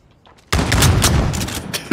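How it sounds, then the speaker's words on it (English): Shotgun blasts and gunfire in a Modern Warfare multiplayer trench fight, a sudden loud burst of dense, overlapping shots filling most of the two seconds, with a final sharp crack near the end. "I like how you both try shooting with the shotgun from that side"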